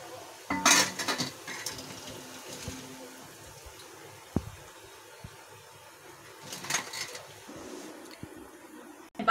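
Fried raw banana kebabs are lifted from the pan onto a plate: soft clinks of a spatula and utensils against cookware, a few scattered taps, fairly quiet with pauses between.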